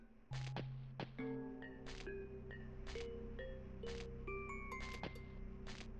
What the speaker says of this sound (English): Ring the damn bell!